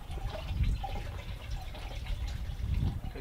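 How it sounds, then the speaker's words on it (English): Brine water trickles and drips off a turkey lifted out of its brine bucket, a low, continuous splashy patter at moderate distance, fairly quiet with no talking. "taking this turkey out of this brine water"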